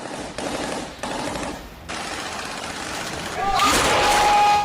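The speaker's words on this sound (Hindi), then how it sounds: "खान यूनुस पिछले कई दिनों से इसी तरह गोलियों की तड़तड़ाहट और मशीन गन की आवाज से सहमा हुआ है" Machine-gun fire and gunshots ring out during street fighting in Khan Younis, Gaza, heard as loud sharp bursts in the distance along with engine noise, swelling in the final second.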